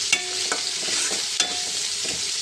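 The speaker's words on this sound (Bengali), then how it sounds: "সেটাকে করে নিই, চিংড়ি মাছটা ভাজা হোক।" Hot oil sizzles steadily as prawns fry in a pan, with a few sharp clinks and stirring scrapes cutting through the continuous hiss.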